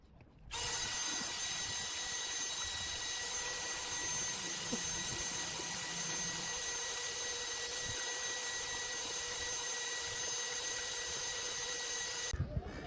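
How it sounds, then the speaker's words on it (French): A cordless drill drives a water pump aboard a trimaran, a steady whirring drone that holds for about twelve seconds before cutting off abruptly, with faint clatter underneath. "Est-ce que vous connaissez la visseuse pompe à eau?"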